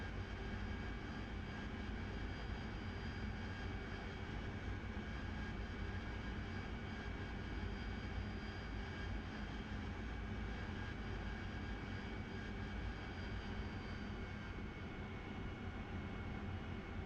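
RAZBAM AV-8B Harrier jet engine in DCS World flight simulation, flying downwind for a shore-based landing: a steady, loud, droning engine roar with a constant high whine and no pauses.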